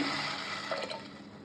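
Reserved cooking water pours steadily into a sprouted horse gram curry in a continuous watery rush, close by and fairly loud, with no voices.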